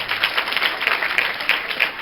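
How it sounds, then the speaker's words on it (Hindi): Students at a career counselling seminar for 9th and 10th graders clap together in a dense, continuous round of applause that fills the room at steady volume. "एक बार ताली बजाओ अपने लिए"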